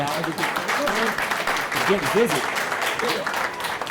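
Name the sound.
audience applause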